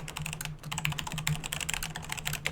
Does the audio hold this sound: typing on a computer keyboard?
yes